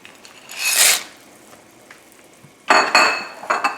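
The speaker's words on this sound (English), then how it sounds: "we're going to put the pasta in now" Pasta added to a pot of simmering calamari and shrimp stew gives two bursts of clattering and stirring against the cookware, separated by a quieter stretch, with no talk.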